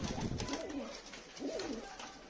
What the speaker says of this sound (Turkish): buradaki kalan kuşlarımız.